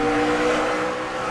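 A NASCAR race car spinning on track roars loud and close, a dense, steady engine and tire noise filling the short burst without any speech.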